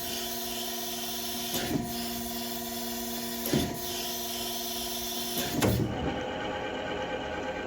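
Willis Machinery surface grinder making spark-out passes, a steady tonal motor hum with three evenly spaced whooshing sweeps as the wheel passes, ending as the hum drops away.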